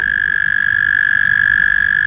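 An American toad gives a sustained, steady high-pitched trill that holds without a break throughout, loud and close over a low background rumble.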